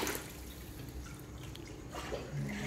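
Water is poured out of a plastic bag holding peacock bass and payara fish during unboxing, a soft trickling and dripping splash that runs steadily and quietly close by.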